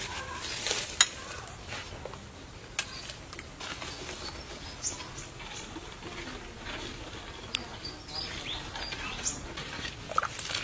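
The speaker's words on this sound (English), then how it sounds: "The water is boiling." Soft, steady bubbling and popping of water boiling in a pot, faint and continuous with small crackles.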